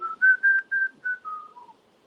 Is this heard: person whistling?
yes